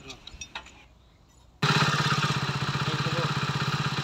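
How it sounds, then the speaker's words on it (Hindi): After a few faint knocks and a pause, a Hero HF Deluxe motorcycle engine fires up abruptly and idles loudly with a steady, rapid pulsing throb. "आप देखिए इंजन की जो साउंड है वो किस तरीके से आ रही है"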